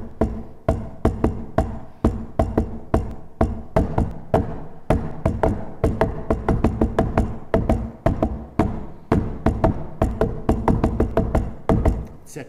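Paradiddle rhythm grouped in eights played on a mbira, a steady stream of bright plucked tones with accented attacks in a repeating pattern, close and continuous for several cycles with no talk.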